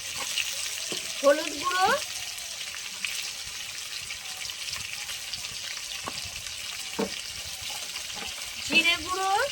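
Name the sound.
frying ridge gourd, potato and drumstick pieces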